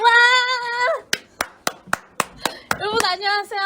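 Students clap together in a group, about eight sharp, evenly spaced claps, between stretches of a voice singing or calling out in a drawn-out tone before and after.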